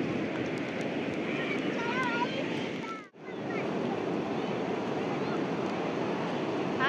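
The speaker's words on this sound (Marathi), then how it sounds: "लाटा बहुत बड़े बड़े आ रहे" Big sea waves roll in at Guhagar beach on the Konkan coast, a broad, constant roar of surf mixed with wind buffeting the microphone, while people talk and call out over it.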